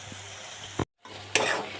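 Spice paste sizzling in a hot kadai, a steady frying hiss that cuts out briefly, then returns louder with a sharp crackle as more paste is added.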